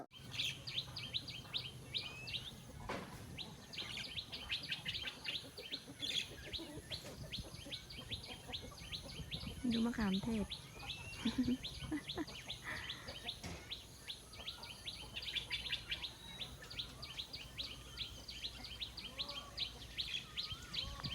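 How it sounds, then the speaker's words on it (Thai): Birds chirp and sing continuously across a steady outdoor ambience, with a few brief louder calls and a faint spoken word partway through. "นกร้อง"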